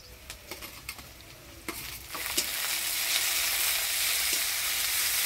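Chopped tomato tipped into onions frying in a pan, a few light taps and clinks followed by a loud, steady sizzle that swells and holds to the end.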